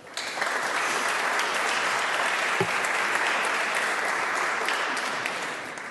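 Sustained applause from a large crowd at an environmental justice seminar in Chile, steady and loud throughout, fading slightly at the very end.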